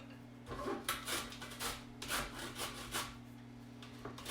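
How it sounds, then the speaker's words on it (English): Something is grated on a hand cheese grater in a home kitchen, giving faint rhythmic rasping strokes, about eight in a few seconds, over a low steady hum. "why don't you start grating one of those?"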